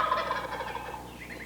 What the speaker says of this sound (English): Wait to hear gobbling.